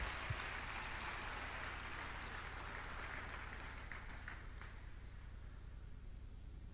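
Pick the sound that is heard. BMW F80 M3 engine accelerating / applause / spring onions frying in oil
applause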